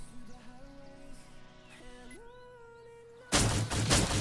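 An explosion goes off in a doomsday-themed video game, a sudden loud broadband blast erupting after a stretch of tonal game music and rumbling on for about a second before the clip ends.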